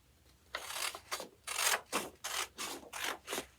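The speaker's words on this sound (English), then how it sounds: "I'm going to go ahead and take my scissors" Scissors cut a piece of paper card in half, giving a run of about seven short crisp rasping snips in an even rhythm, close up and with no voices.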